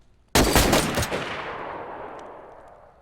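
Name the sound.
gunfire from a firing squad volley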